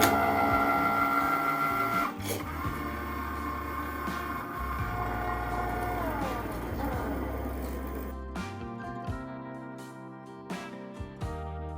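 A Cricut machine cutting material for a Christmas pillow gives a steady mechanical whir with a low hum for about eight seconds, then shorter, sparser motor bursts as the carriage moves.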